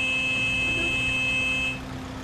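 In PUBG, a vehicle horn blares as one loud, steady held tone for almost two seconds, then cuts off.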